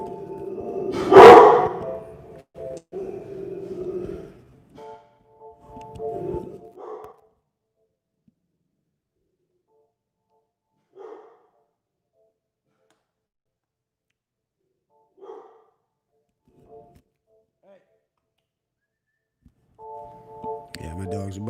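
A household dog lets out one loud close bark near the start, followed by a few shorter, quieter bark-like sounds and long silences between them.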